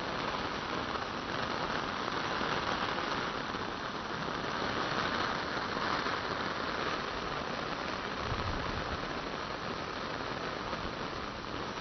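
Heavy early-monsoon rain falls at Bhushi Dam in Lonavala with the dam overflowing, a dense, steady hiss and roar that holds evenly throughout with no voices.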